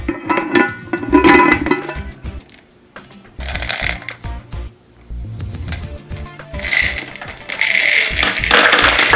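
A plastic toy gumball machine is unscrewed, giving bursts of clicky ratcheting and rattling as gumballs shift inside, in several short loud bouts with brief pauses between them.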